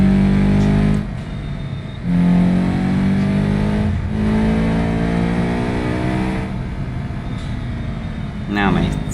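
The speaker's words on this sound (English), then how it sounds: "he started to do a burnout right there" A car doing a burnout at a drag race, its engine revving hard in long sustained pulls with brief dips between them, loud and close, with a voice speaking over it.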